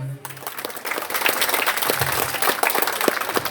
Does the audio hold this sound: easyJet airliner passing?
no